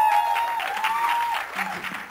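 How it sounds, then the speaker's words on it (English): Crowd applause at the Mary Kom movie trailer launch, a dense clapping wash that gradually fades, with a steady tone and some faint voices underneath. "Big round of applause for her."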